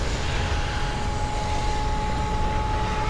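A video-game helicopter engine warming up, giving a loud, steady mechanical drone with a constant whine and no speech.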